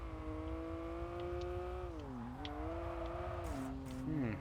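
A race car engine in Kaido Racer 2 on PS2 holds a steady harmonic whine on a downhill run, dropping and climbing in pitch through the turns, with faint tire squeal near the end.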